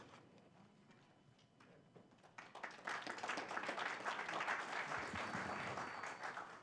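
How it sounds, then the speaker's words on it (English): Applause from a room of attendees at a planning and zoning meeting, starting faint and swelling into steady dense clapping that holds, somewhat distant. "if we could refrain from the applause"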